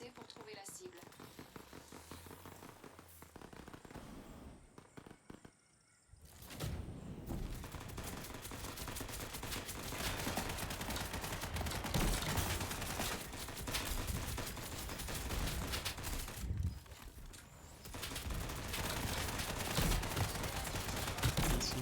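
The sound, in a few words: basic pistol gunfire in video game Off the Grid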